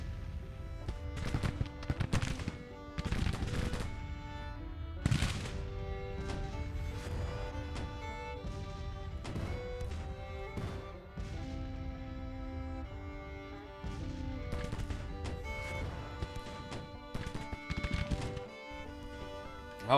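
Scattered musket volleys and gunfire in Grand Tactician: The Civil War, popping irregularly throughout under a steady musical score, fairly distant and mixed with the background soundtrack.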